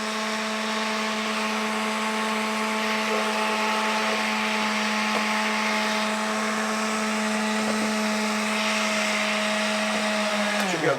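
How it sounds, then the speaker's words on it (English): An old-school blender runs continuously, blending greens with a steady, loud whirring motor whine that holds its pitch and slows only at the very end. "Check out this old school blender."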